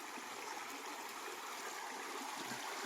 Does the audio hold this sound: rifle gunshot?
no